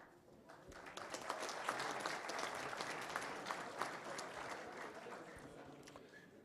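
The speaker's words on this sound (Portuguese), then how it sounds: "Então, Petenar, uma salva de palmas, Petenar." Applause from the audience at a public hearing, a steady wash of many hands clapping that stays fairly faint and even throughout, with no voices over it.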